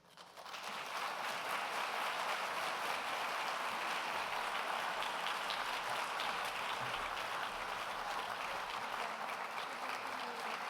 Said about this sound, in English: applaud only twice tonight, at the end, and now as we welcome our candidates to the stage